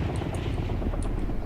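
A helicopter in the Fortnite video game gives off a steady, fairly loud low rotor rumble. It runs continuously without pause, with faint higher chirps drifting over it.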